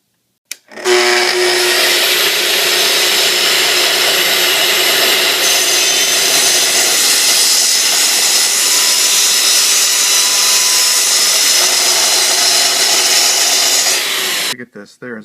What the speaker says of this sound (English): For this task, we're going to use the TS55 EQ track saw.